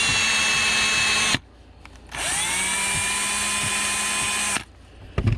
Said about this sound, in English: Now I'm going to take a soft bottle brush attached to my drill, and I'm going to clean all this old grease and any grime